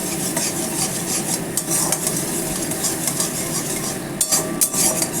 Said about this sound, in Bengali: চিনিটা দেওয়ার পরও এটাকে ভাজতে হবে।